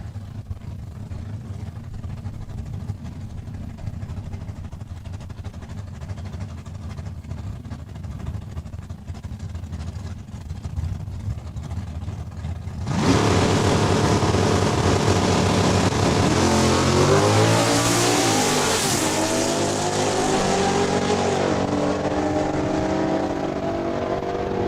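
A drag racing car at Saskatchewan International Raceway makes a quarter-mile run during a points race. A low rumble builds to a sudden loud, full roar, then a powerful sustained howl with climbing pitch sweeps that fades slightly as the car pulls away.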